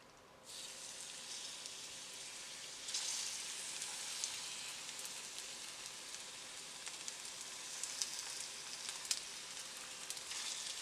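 Kimchi mix frying in canola oil in a pan over medium-high heat, a steady crackling sizzle with scattered pops that jumps up after a quiet start and swells again around the third second.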